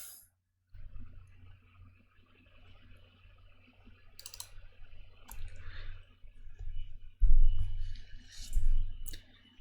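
Mouse clicks on a computer while opening the CYPECAD structural design software: a few sharp, close clicks over quiet room noise, with faint low rumbling and shuffling near the end and no talk.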